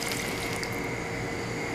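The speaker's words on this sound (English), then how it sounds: "I'm going to add a 1 glass of water again" A glass of water pours steadily into a cooking pot of chicken tinola, a continuous splashing, gurgling stream heard up close with no talking.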